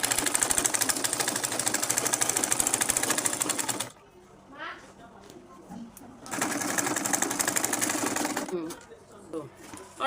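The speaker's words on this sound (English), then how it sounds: "now I'm taking it to my sewing machine" A sewing machine runs in fast, rapid stitching bursts, stopping for a few seconds of quieter handling noise before starting again, close up.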